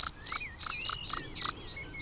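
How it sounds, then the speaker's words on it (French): Crickets chirping in six sharp, evenly spaced bursts, loud and close against an otherwise quiet background. "Les grillons chantent"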